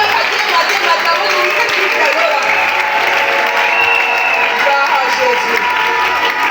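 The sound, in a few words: church congregation applauding during preaching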